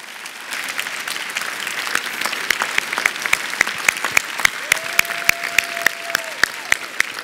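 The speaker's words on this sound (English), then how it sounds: "and we applaud you." Audience applause at a cathedral gathering, steady clapping that builds into a few sharp, distinct hand claps standing out near the end, with a faint sustained tone in the background.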